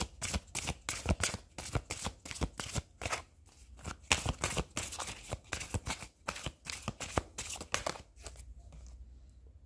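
Tarot cards are shuffled for a card reading, giving a close run of quick riffling and slapping bursts in an uneven rhythm that thins out near the end.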